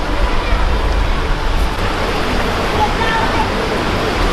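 A river flows steadily beside the bank in a broad, constant wash of water noise at fairly close range, with faint background sounds and no clear talk.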